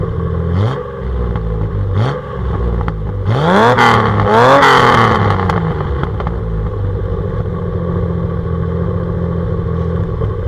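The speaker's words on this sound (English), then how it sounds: "Let me at least give you one good exhaust note before we go." Silver Nissan 240 engine revving up in a few sharp bursts with a rising exhaust note, then settling back to a steady idle, loud and close with no talk.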